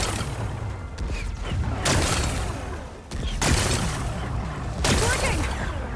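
Rocks blasted with explosives in Horizon Forbidden West, a sequence of heavy bursts with crumbling debris, three or four sharp onsets over several seconds, loud and close amid game ambience.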